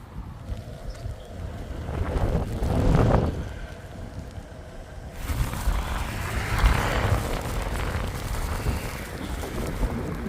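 Wind and rain outdoors in the Lake District: steady gusty buffeting across the microphone with a constant rushing wash, rising in two stronger surges, and no voices.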